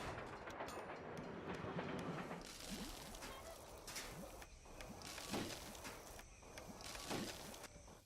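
Trains run in the railway-building video game Railway Empire, with rolling rail clatter, rumbling wagons and occasional brighter metallic squeals rising and falling over several seconds, without speech.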